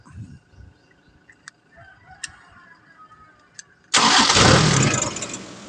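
A Kubota harvester engine is cranked after a stretch of quiet background with faint birds, then bursts into a loud, rough roar for about two seconds.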